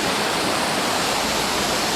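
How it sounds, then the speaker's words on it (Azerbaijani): A waterfall at Laza, Azerbaijan pours in a loud, constant roar heard up close, a thick wash of falling water with no voices. "Bu qədər əzab əziyyətlə gəlib çıxmışam bu şəlaləyə."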